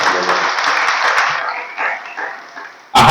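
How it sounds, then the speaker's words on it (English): An audience at a school press club handing-over ceremony claps in a brief burst that fades after about a second and a half, leaving scattered claps, before a sudden loud noise at the end. "Let's give a round of applause."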